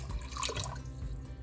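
Chicken broth and water pour into a cooking pot with a soft, steady liquid splash and trickle, fairly quiet and brief.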